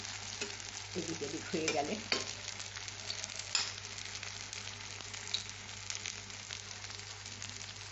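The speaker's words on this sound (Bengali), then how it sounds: "বেশ একটু লাল লাল করে এইগুলো গোল্ডেন করে ভেজে তুলে নেব" Gokul pithe frying in hot oil to a golden colour, a steady close crackling sizzle throughout with occasional stirring clinks and a brief quiet voice.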